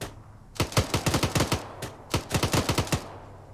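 Two rapid bursts of automatic gunfire from the video game Arma 3, each a string of sharp evenly spaced shots, loud and close, separated by a brief pause and with no talk.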